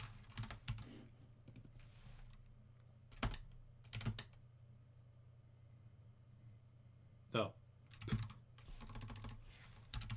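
Keys clatter in short bursts on a computer keyboard, spread across the clip with pauses between them, close and moderately loud, while a low steady hum runs underneath and a voice briefly speaks.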